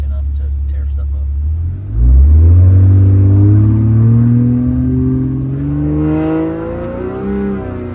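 A full-drive diesel truck launches hard from idle and revs up, its deep engine note climbing and rumbling loudly close by, easing off and rising again, with a voice talking over it.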